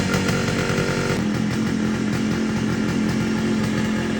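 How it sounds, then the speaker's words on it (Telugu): A restored old Yamaha RX100 motorcycle engine runs loud and close with a rough, buzzing drone, shifting to a steadier idle after about a second, with no voices. "ఇప్పుడు పెట్రోల్ ఇంకా ఇంజిన్ ఆయిల్ అయితే ఫిల్ చేసి బండిని అయితే స్టార్ట్ చేసి చూద్దాం."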